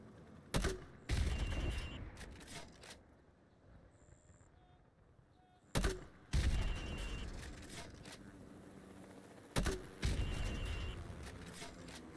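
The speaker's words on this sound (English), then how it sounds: "Right, now pop a grenade into windows 5, 6 and 7." Grenade launcher rounds fired into building windows in Call of Duty Modern Warfare Remastered: three sharp, loud launches spaced several seconds apart, each followed by a booming explosion and a lingering rumble.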